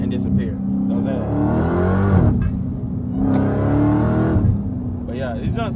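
A straight-piped Dodge Demon engine revs hard in two long, loud surges with a rough, throaty exhaust roar that drops back to idle between them, while someone talks over it.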